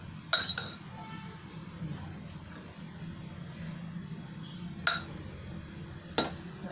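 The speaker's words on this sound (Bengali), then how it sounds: "এবার আমি কুকারটা খুলে দেখছি।" Someone opens a pressure cooker of chana dal pulao. Three sharp metallic clinks, the first early and the other two close together near the end, stand out over a low, steady background hum.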